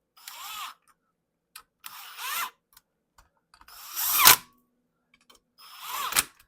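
A power tool tightens the bolts on a Comet 102-C primary clutch in four separate bursts, each a rising whir that winds up and stops, with short silent pauses between them.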